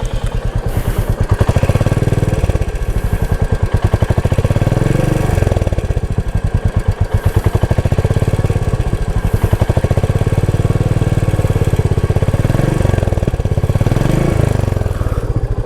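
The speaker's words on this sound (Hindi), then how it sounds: "कितना स्वीट साउंडिंग एग्जॉस्ट है भाई" A Royal Enfield Meteor 350 motorcycle exhaust thumps steadily at close range, a loud, even single-cylinder beat with slight rises in revs, heard alone without talk.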